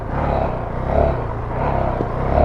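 Honda CRF450L motorcycle engine in first gear with the throttle rolled on and off, swelling and falling in uneven surges, close and loud, no voices.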